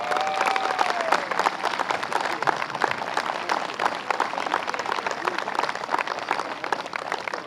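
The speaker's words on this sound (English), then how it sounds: "So please, quick round of applause for Rick." A Little League parade crowd outdoors claps for an honorary board member. The applause is loose and uneven, with scattered individual claps and a brief vocal sound at the start.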